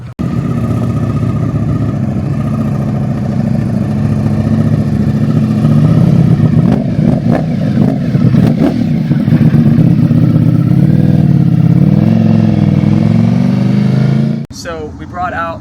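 A 2025 Ducati Panigale V4 fitted with an Arrow titanium exhaust idles and revs, a loud, steady engine drone with repeated throttle blips near the middle, ending abruptly with a brief clatter and quiet tail.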